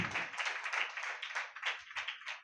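A church congregation claps hands together in a fast, steady run of overlapping claps. The sound is close and fairly even and stays unbroken for a couple of seconds, with no voices over it.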